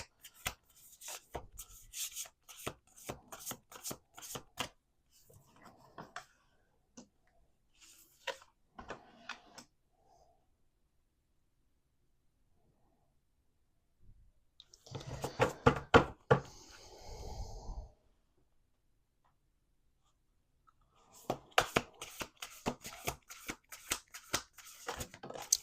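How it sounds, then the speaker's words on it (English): Oracle cards shuffled by hand in quick crisp bursts of riffling and slapping, close and clear, separated by short pauses and quiet handling, with no talking. "Let's do 2 more shuffles."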